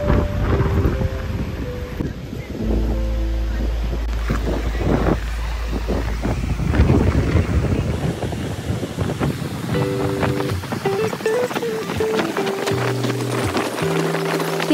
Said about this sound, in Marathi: पार्श्वभूमीला हलकी मृदंगासारखी लाटांची तालबद्ध गाणी